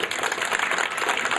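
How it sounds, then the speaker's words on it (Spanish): Brief burst of audience applause at a rural community ceremony for the rural development coordinator, a dense, steady patter of clapping from a seated crowd, moderately loud with no voices over it. "para quien pido también un fuerte aplauso"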